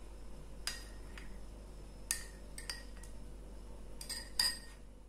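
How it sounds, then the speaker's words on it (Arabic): Spoon clinking against a bowl while natron is stirred into hot water, a few sharp metallic taps spaced irregularly over quiet background hiss, close and fairly soft. "انا هو اللي نستمر نحرك هذه الناطه في هذا الماء ما حدو مازال حامي باش تذوب"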